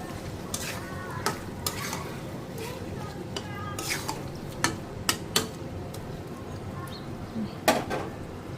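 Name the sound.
stir-frying fish and potatoes with spices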